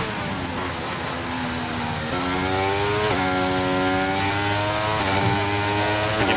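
A racing car engine in a racing video game revs hard and continuously, its high, buzzy pitch climbing and dropping as it shifts through gears, loud and steady throughout.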